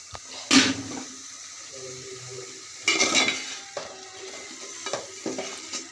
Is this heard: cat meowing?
no